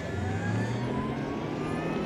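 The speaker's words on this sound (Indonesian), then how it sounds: "kita akan tes akselerasinya, bagaimana akselerasi dari motor ini" VinFast Vento S electric scooter pulling away from a standstill, a steady mid-level whir with a faint electric tone that climbs gradually in pitch, continuous with no talk over it.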